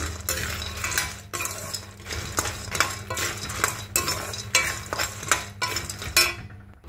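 Makhana (fox nuts) dry roasting in a pan, with a steady run of light rattling and scraping as the nuts are stirred, broken by repeated sharp clinks of a metal spoon against the pan, close and fairly loud.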